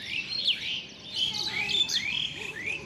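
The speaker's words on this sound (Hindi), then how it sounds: "अर्ली मॉर्निंग चिड़ियों की चहचहाहट जब हमें सुनने को मिलती है तो कितना अच्छा लगता है" Several birds chirp and tweet in quick, bright bursts in the early morning, close and clear, with no voices.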